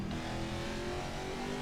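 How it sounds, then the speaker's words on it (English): Steady, loud engine drone from a NASCAR 21 stock car lapping Martinsville, a dense harmonic hum holding nearly level pitch throughout, with no voices over it. "if I'm not in traffic, then I can hear my engine"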